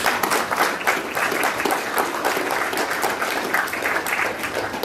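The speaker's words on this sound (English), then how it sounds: "step back with me and clap to all the Australians" Audience at a Papua New Guinea prime minister's address at ANU applauding Australian guests, a sustained, fairly loud wash of many hands clapping throughout.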